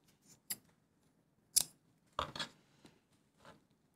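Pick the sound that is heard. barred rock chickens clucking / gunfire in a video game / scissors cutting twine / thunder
scissors cutting twine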